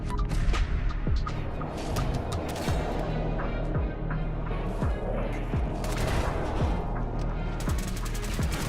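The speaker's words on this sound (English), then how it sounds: "set off a pulse grenade, knocking him down but also one of the synths" Battle in the video game Fallout 4 with a pulse grenade going off among synths: dense, continuous gunfire and booming blasts with sharp transient cracks throughout, loud and busy with no pause.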